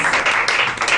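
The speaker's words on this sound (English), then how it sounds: "Can we give him a round of applause?" A brief burst of dense applause from the audience at a scholars' award summit, many hands clapping together loudly and evenly for about a second.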